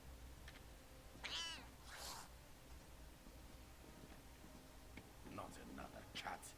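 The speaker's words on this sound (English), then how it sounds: "Not another cat. I hate cats." Cat meows in Elder Scrolls Online, two short rising calls near the start and a few more near the end, moderately loud over quiet game ambience.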